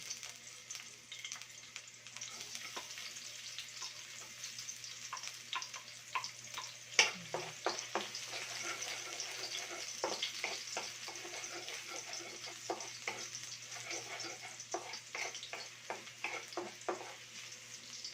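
Garlic sautéing in a little oil in a pan, a steady soft sizzle with scattered crackles and pops throughout, close and fairly quiet.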